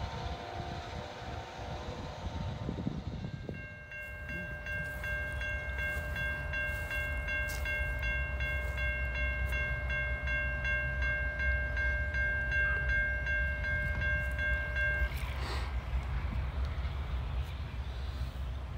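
A northbound CSX freight train on the Toledo subdivision rolls past at a crossing after a short horn blast, its steady wheel and engine rumble continuing loud and near, with a sustained horn tone held over the passing cars.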